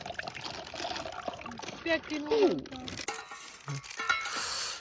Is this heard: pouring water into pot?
yes